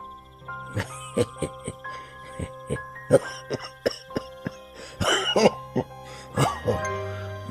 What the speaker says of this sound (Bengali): তার উপর কদিন থেকে কাশির টানটাও বেড়েছে